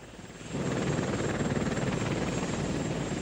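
Apache helicopters' rotors throb steadily and loudly, a dense continuous chopping roar that swells in after a brief quieter start.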